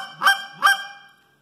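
Two short honking calls blown in quick succession on a goose call, loud and close, then a fading tail into quiet.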